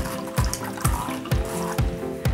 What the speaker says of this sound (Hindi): और एक स्ट्रेनर लेंगे और उसमें ये जूस जो है छान लेंगे।